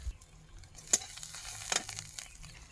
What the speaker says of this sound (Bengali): এখন আমি শাকটা দিয়ে দেবো